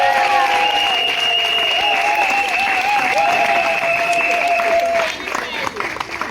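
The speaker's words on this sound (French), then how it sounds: "Ça s'applaudit." Sustained applause from an audience at a joint birthday celebration, dense steady clapping with some cheering over a held musical tone, easing off near the end.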